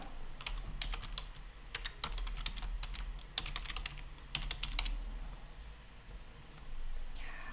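An email address typed on a computer keyboard as quick, uneven bursts of close key clicks over a faint background hum, with no speech.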